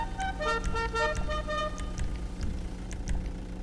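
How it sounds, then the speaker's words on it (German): A car horn in GTA 5 Online, the Nightlife After Hours update, sounds as a series of short, bright melodic toots over a steady low engine rumble, with a few sharper tones near the end. "Und noch eine Hupe rein."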